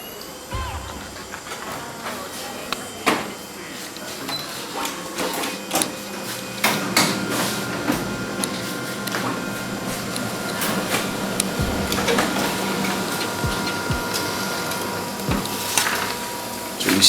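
A Canon photocopier running a test print after repair: a steady mechanical whir with clicking, clacking feed and roller sounds throughout, close and moderately loud.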